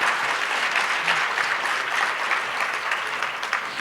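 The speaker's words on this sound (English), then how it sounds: "That's worth an applause, right?" Dinner guests at a fireside chat event applaud steadily, a close, dense wash of clapping that stays even throughout before easing slightly at the end.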